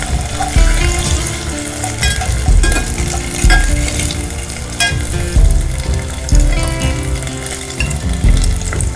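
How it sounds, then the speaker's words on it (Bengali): Paneer cubes sizzle loudly in hot oil for a vegetable navratan pulao, with continuous crackling frying and repeated stirring scrapes in the pan, close up and without talk. "পনিরটা ভেজে তুলে নিয়েছি আমি"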